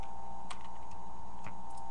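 Keys on a computer keyboard are pressed by a cat walking across it, giving a few faint, sparse clicks over a steady electronic hum, with no voices.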